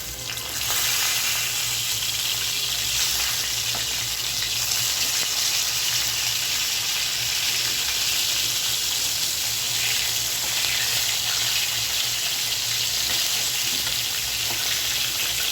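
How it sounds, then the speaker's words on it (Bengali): Coral fish pieces fry in oil with a loud, dense, unbroken sizzle that holds steady and close for the whole stretch, with faint low hum beneath. "মাছগুলো সুন্দর করে ভেজে নিচ্ছি"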